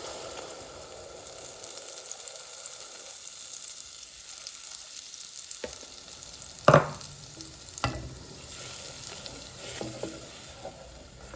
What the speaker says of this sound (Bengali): এরপরে আমি ঝিঙ্গা লাগি পাঙ্গাস মাছও এখানে আমি একটু ফ্রাই করে লাইছি